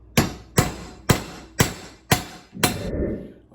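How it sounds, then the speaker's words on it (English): Hammer strikes driving a metal pin with a knurled edge into a Minn Kota trolling motor base plate: six sharp, evenly spaced blows, close and loud, the last one ringing out a little longer. "we're just going to hammer it down, and then that knurled edge will hold it into position."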